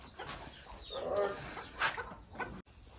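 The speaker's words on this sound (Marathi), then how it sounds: "कोंबडे बघा कसे एकदम मज्जा मारतात" Chickens cluck in short bursts near the listener, with a busy outdoor village background and no talking.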